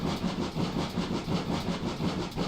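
GWR 6960 Raveningham Hall steam locomotive slowing on the West Somerset Railway in Train Sim World, a steady rumbling roll with rhythmic chuffing beats and wheel clatter, loud and continuous without talk.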